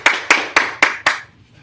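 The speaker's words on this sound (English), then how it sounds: "Let's clap it up for the Most High." A church congregation at a Sabbath service claps five times in a steady, even rhythm, loud and close. The claps are sharp and spaced about a quarter second apart, then stop, leaving quiet room tone.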